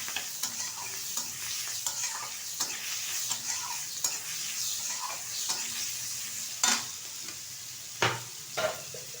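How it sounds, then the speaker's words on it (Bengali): Shrimp fry in a pan with turmeric powder, giving a steady close sizzle with regular scraping strokes of a spatula and a few sharper knocks near the end, with no voices. "একটু ভালোভাবে চিংড়ি মাছটা ভেজে নেব।"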